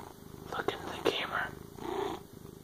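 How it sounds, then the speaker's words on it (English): A cat purring close by in a home setting, a soft continuous rumble running under quiet, breathy talk from a person nearby. "Listen to the purring."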